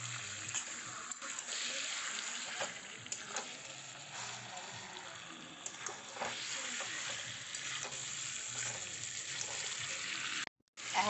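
Chicken pieces with raw mango are stir-fried in masala, making a constant close sizzle with frequent scraping stirs from a spoon in the pan and a brief drop-out near the end.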